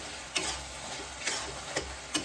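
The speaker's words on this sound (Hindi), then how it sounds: "देखिए किस तरीके से ये भुन रहा है।" Eggplant bharta masala with peas fries in a kadhai, giving a steady close sizzle broken by a few soft spoon scrapes at regular intervals, with no one speaking.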